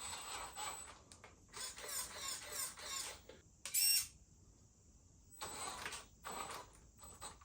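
Cross RC NT6 6x6 rock crawler's electric motor whirring at high speed on a rubber mat, a faint, thin whine that comes in several short bursts with quiet gaps between them.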